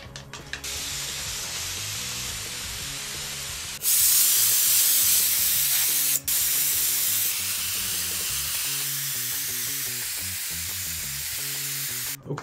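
Acrylic paint sprayed from a distance over a stencil on a surfboard, heard as long, steady hissing bursts with brief pauses between passes, close and loud, without any talking.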